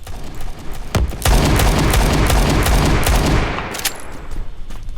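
Loud, rapid gunfire from a gun fired from the hip in a shooter video game: a dense burst of shots that starts in earnest after a single opening crack, runs for about two seconds, then tails off into scattered booms.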